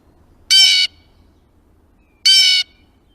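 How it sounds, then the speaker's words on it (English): A blue jay gives two loud, harsh squawking calls about two seconds apart, each lasting roughly a third of a second, standing clear against a quiet outdoor background. "Yeah, the blue jay. Let's listen to their call."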